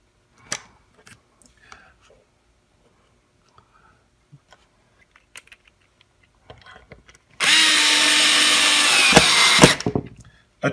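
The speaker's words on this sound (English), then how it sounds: "Attach the other screws" A power drill driving screws to mount a wireless security camera, first some faint handling clicks and taps, then one loud continuous whir of about three seconds that stops abruptly, followed by a brief clatter.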